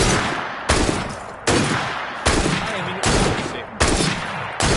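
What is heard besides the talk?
gunshots in video game Assassin's Creed Syndicate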